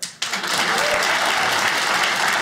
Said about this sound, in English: By a round of applause, how many people have clapped their hands before?